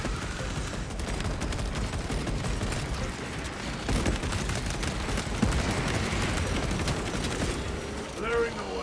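Sustained gunfire in the video game Warhammer 40000 Space Marine 2, a dense, continuous stream of loud shots and mechanical clatter with heavier impacts scattered throughout, barely pausing across the whole stretch.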